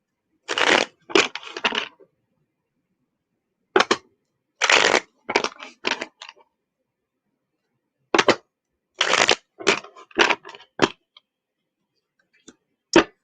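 Bursts of tarot card shuffling in separate riffles with quiet pauses between, crisp and close, no talking.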